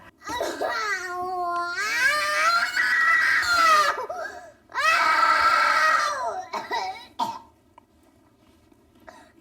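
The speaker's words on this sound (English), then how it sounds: "It's a lot of noise, darling, and a lot of screaming" A young girl screams and wails in a temper tantrum, loud and close, in long pitched bursts with coughing, throat-clearing sobs and short pauses between outbursts.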